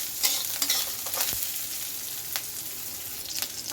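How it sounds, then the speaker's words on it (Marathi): Chopped small onion frying in a pan, a soft steady sizzle punctuated by several sharp scraping stirs, close and without talk. "नंतर हा कांदा, आपण छोटा कांदा कापून घेतला, तो टाकायचा। कांद्याला थोडं ब्राऊन होऊन द्यायचं।"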